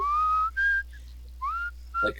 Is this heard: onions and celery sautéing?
no